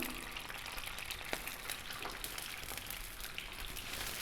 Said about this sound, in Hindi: डिप करने के बाद हम इसको डालेंगे कढ़ाई में।